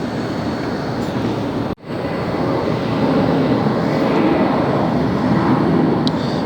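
A Boeing 787 Dreamliner jet at LAX, heard as a loud, sustained broadband roar with a brief cut partway through, then continuing steadily.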